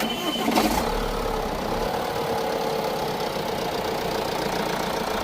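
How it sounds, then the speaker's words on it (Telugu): A 2021 Tata Safari XZ+ diesel engine cranks over with a brief starter whirr and catches, settling into a steady, close diesel idle with no talking. "స్టార్ట్ చేస్తున్నారు, సౌండ్ ఎలా ఉందో చూద్దామండి"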